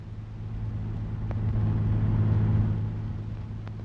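A 1937 Lincoln Zephyr taking a sharp curve, its engine a steady low rumble that swells midway through and then eases, with no talking.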